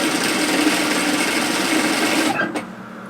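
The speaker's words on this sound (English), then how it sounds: "we're going to stitch down the side of the belt" A sewing machine stitches steadily down the side of a woven kimono robe belt, a dense continuous whir that runs close and loud for over two seconds before stopping abruptly, followed by a brief clack and quiet.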